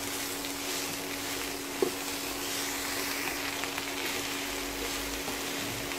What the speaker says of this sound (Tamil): எல்லாத்தையும் சேர்த்து நல்லா வதக்கி விட்டுக்கலாம்